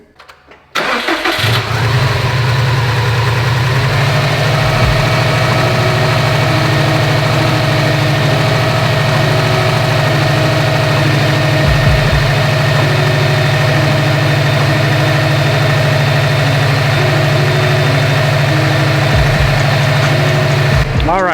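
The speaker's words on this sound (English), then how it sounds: "that's how a brand new EJ25 should sound" A Subaru STI's brand-new EJ25 engine cranks briefly, catches and roars to life, then settles into a steady, loud idle that runs on close by without pause.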